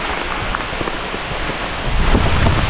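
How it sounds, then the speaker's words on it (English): Heavy rain pouring down during a waterfall hike, a dense continuous hiss close by that grows louder toward the end. "It's raining like a lot."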